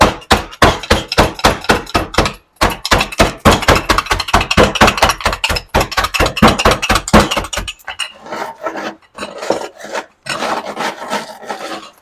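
A trusty rolling pin smashes and rolls oats sealed in a zip bag for apple cinnamon steel cut oats, a rapid run of loud close thumps and rasps, then softer, irregular crushing and rolling strokes.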